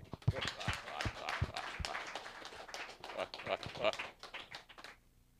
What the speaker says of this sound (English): One more round of applause for Gary.